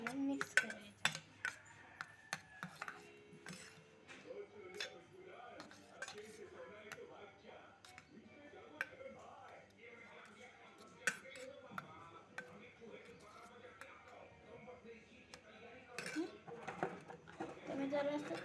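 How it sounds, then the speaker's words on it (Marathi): Chopped onion is stirred into beaten omelette eggs in a home kitchen, a utensil clinking and tapping against the bowl in light irregular bursts while someone talks throughout. "आणि कांदा घालून मिक्स करायचा."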